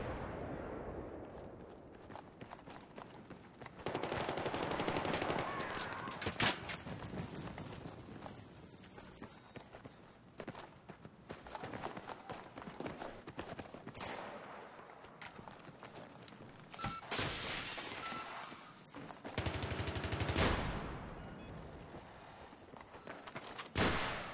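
Gunfire in a military shooter video game, with dense, continuous bursts of rapid shots and impacts that swell and fade over nearly half a minute, loud and crowded without a break.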